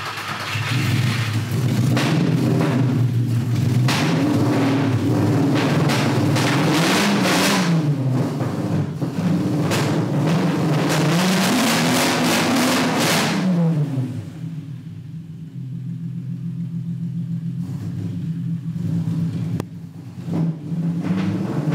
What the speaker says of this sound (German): Nur mal so ganz kurz, einmal so ein, zwei Gaststöße mal, wie das Ding hier so schnorchelt.